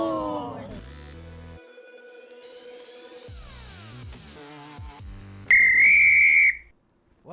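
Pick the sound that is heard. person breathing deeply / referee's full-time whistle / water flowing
referee's full-time whistle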